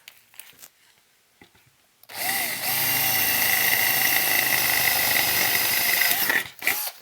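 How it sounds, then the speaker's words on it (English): After a couple of seconds of quiet handling, a power drill starts and runs loud and steady for about four seconds, then stops with a brief rattle. "once you have a pilot hole, you don't want to be pushing down real hard when you're drilling"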